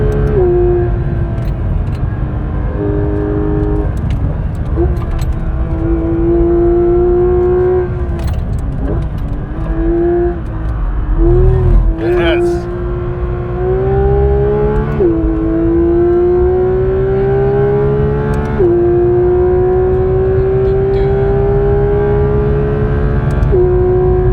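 A Porsche GT3 RS engine drones loudly from inside the car on the Nürburgring during a tourist day, its pitch climbing steadily and dropping back at each gear change as traffic is passed, with no voices.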